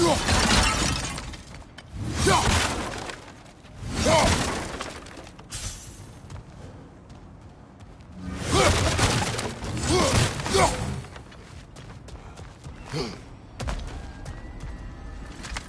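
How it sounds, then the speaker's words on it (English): Objects smash and shatter repeatedly in God of War Ragnarök, a series of loud crashing breaks with debris clatter, bursts recurring every few seconds against quieter background game ambience. "back to smashing through things for fun and profit."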